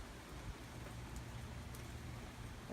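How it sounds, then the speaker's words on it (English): Light rain falling steadily outdoors during Hurricane Irma on a street paved with crushed white seashells, a soft continuous patter with a low rumbling wash underneath and no voices. "As you can see, we've had a little rain."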